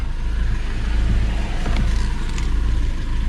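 A Citroën or Peugeot car idling steadily right after a jump start from a flat battery: a close, even, low engine rumble with no changes in revs.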